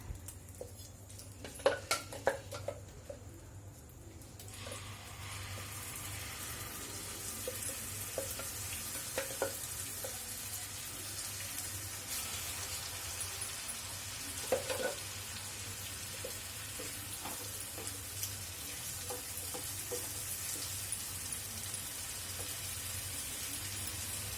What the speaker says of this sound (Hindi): अब इनको पैन में डाल के भून लेते हैं